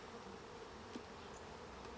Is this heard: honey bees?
yes